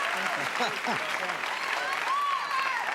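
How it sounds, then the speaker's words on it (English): Studio audience applause on a late-night talk show breaking out in the middle of a musical number, steady clapping with some crowd noise and faint voices mixed in, brief and fairly close. "Isn't it nice to hear that kind of reaction in the middle of music applause?"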